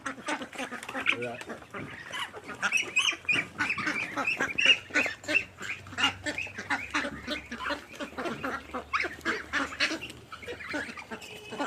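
A flock of Chinese and local ducks quacking and honking close by, dense overlapping rhythmic calls continuing throughout.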